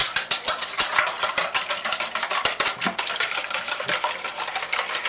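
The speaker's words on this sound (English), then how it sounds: "Whisk them up." Six eggs being whisked in a mixing bowl, a fast steady run of close, bright clicking strokes against the bowl with no talking.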